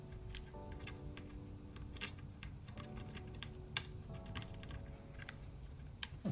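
A Keychron K3 Bluetooth mechanical keyboard, caked with four years of grime, is handled during cleaning, giving scattered light clicks and plastic taps at an irregular pace, fairly quiet over a low steady background hum.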